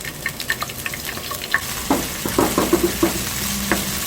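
Chili peppers frying in a hot pan for shrimp kkanpunggi, a steady sizzle broken by clicks and scrapes of stirring, with a burst of louder crackles in the middle.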